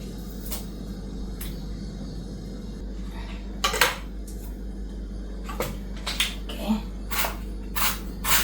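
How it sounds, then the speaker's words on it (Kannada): Knife cutting a large onion on a board in a home kitchen: irregular sharp taps and chops, some in quick pairs, close and moderately loud over a steady low hum, with no talking. "ಒಂದು ನಾನು ಸ್ವಲ್ಪ ದೊಡ್ಡ ಸೈಜ್ ಆನಿಯನ್ ತಗೊಂಡಿದ್ದೇನೆ. ಇದನ್ನು ಕಟ್ ಮಾಡಬೇಕು"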